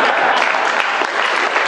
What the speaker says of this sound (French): Là, il n'y a que ceux qui ont la ref qui applaudissent